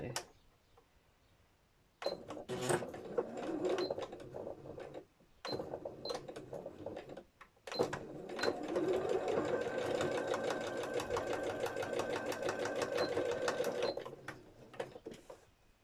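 Sewing machine stitching a mini quilt in bursts, rapid mechanical clatter starting and stopping several times with short pauses, then a long steady run, close and clear, with occasional talking between bursts.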